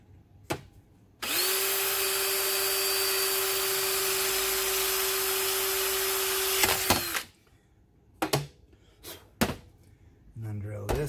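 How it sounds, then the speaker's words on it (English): A power drill bores into a cracked aluminum or magnesium chainsaw part, a loud steady high whine lasting about six seconds, followed by a few short clicks and knocks of handling. "So we're gonna drill that one."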